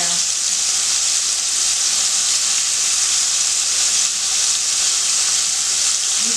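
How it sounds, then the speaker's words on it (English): Floured cubed steak frying in hot oil gives a steady, loud, close sizzle with constant bright crackling hiss, unbroken throughout. "Just the meat going in the hot stuff,"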